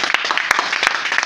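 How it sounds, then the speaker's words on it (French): Church congregation applauding and cheering during a French-language sermon, a dense steady wash of clapping with a few sharper bursts, close and continuous for just over a second. "Est-ce que tu peux acclamer pour toi-même?"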